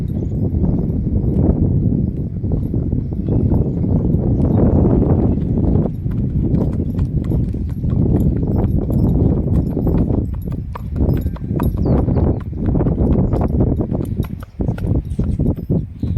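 Loud, close clip-clop of a Marwari mare's hooves striking the ground in a steady rhythm, continuing throughout.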